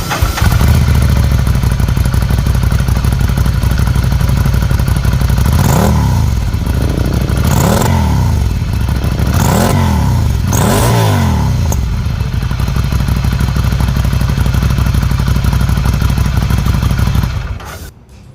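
A 2015 Ducati Scrambler motorcycle engine idles loudly and steadily, with four quick revs in a row rising and falling midway before settling back to idle.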